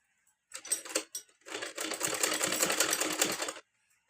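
A sewing machine stitching silky fabric gives a short burst of rapid mechanical chatter, a brief pause, then a longer steady run of fast clacking stitches, close and fairly quiet in a calm room.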